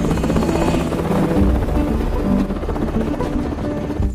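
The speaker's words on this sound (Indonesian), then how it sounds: "Karena muatan helikopter yang terbatas, Letnan Waters pun memutuskan untuk mengevakuasi para orang tua dan anak-anak terlebih dahulu" A military helicopter in a war film set in the Nigerian jungle, its steady rotor chop and engine roar loud and continuous throughout, with no talk over it.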